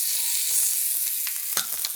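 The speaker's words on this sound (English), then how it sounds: "now we're going to put these in the pan, skin side down. We want to sear them and brown this." Chicken pieces sear skin side down in a hot pan, giving a steady close sizzle and frying hiss throughout, with a few brief pops and crackles toward the end.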